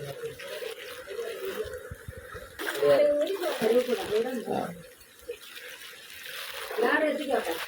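Floodwater pours into a house kitchen during heavy rain at Puthiyappuram, Karuvannur, making a steady splashing, trickling rush that swells and fades while people talk over it nearby.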